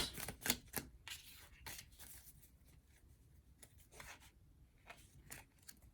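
Tarot cards being shuffled by hand, quiet irregular riffling and snapping clicks in bursts, close and faint with no talking.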